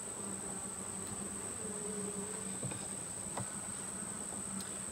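A honey bee colony buzzes steadily while a farm hive is opened for inspection, a constant close drone with a few faint knocks from handling the frames.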